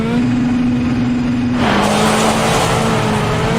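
Rally car engine held at full throttle in Richard Burns Rally, a loud steady droning roar that surges brighter and harsher partway through, with a slight pitch shift as it keeps pulling.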